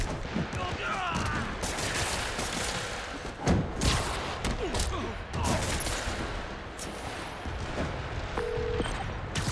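Gunfire in Marvel's Spider-Man rings out as scattered shots and rapid volleys with thuds and impacts, loud and chaotic, with voices shouting amid the action.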